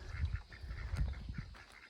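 Ducks in a backyard duck pen next to a garden give repeated honking quacks at moderate distance, a few short calls in quick succession with no talk.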